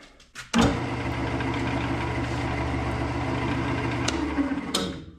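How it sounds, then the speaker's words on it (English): A wood lathe spins a resin and cedar blank mounted between centers at 1400 RPM, giving a steady, close motor hum with a low drone that runs for several seconds after a brief start-up knock. "Now let's go to the lathe, put it in between centers and start turning."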